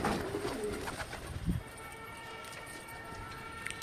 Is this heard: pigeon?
yes